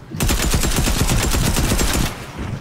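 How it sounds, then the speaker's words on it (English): A SCAR assault rifle in Fortnite fires a rapid, sustained burst of loud, closely spaced shots for about two seconds, then stops. "Use your scar!"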